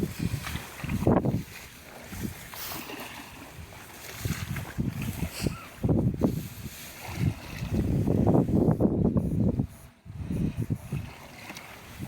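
Strong wind blows outdoors over a water spinach patch during electric fishing for snakehead, rumbling against the microphone in heavy low gusts that swell and fade, louder toward the end, with no clear talk.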